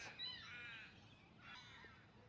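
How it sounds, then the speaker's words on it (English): A few harsh crow caws sound from a distance, quiet against a faint outdoor background. "A few of the crows squawking."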